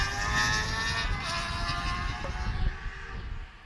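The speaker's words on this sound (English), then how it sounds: "Seems like everybody has their motorcycles out tonight." Motorcycle engines drone and rumble at night near a baseball field during a Dodge City A's at Haysville Aviators game, a steady engine roar that swells and fades slightly as the bikes pass, with no voices over it.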